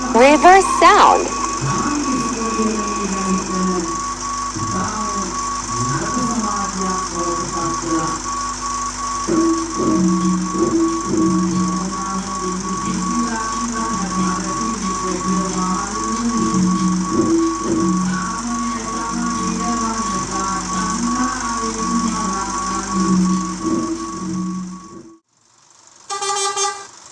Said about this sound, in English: Reverse sound.